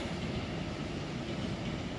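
An RER commuter train in Île-de-France passes below a viaduct, a continuous rail rumble with faint wheel clatter, heard from a distance and steady throughout.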